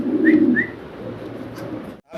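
Soft, low pigeon cooing close by, a throaty murmur strongest at the start, with a couple of faint higher chirps above it.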